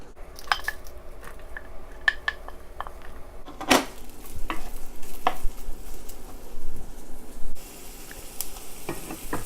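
Ginger, garlic and onion hitting hot oil in a wok, a sudden sizzle with metal utensil clinks and scraping as they are stirred, fairly close.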